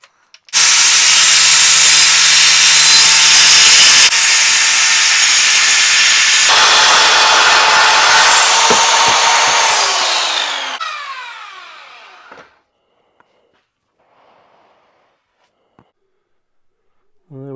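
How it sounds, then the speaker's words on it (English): A power tool cuts through wood in a workshop with a loud, steady broadband whine for about ten seconds, pitch shifting as it bites, then winds down and stops, leaving near silence with a few small knocks. "I'll just be using it for cutting."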